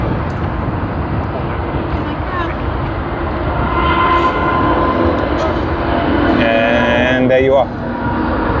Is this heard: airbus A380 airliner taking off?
yes